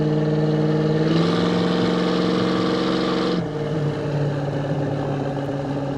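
The 340 V8 engine of a 1973 Plymouth Cuda rumbles loudly and steadily, swelling into a harder rev for a couple of seconds before settling back to a throaty, even drone.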